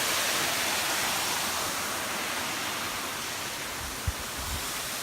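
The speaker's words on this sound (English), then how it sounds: "And there's a waterfall." A Hawaiian waterfall roars as a dense, steady rush of falling water heard from a short distance on a hiking trail, with a faint thump near the end.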